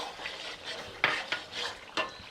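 Chicken karahi masala is stirred in a metal pot, with a spoon clanking and scraping sharply several times against the pot over a soft background sizzle of frying.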